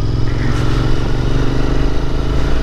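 A motorcycle engine runs steadily and loud on a road ride, with a continuous low throbbing drone and slight revving throughout, no talking over it.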